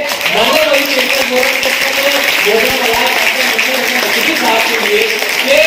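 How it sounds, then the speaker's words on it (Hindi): An audience at an educational forum event in Malegaon claps loudly and steadily throughout, while a voice carries on speaking over the sustained applause. "आइए एक मरतबा जोरदार तालियां बजाइए"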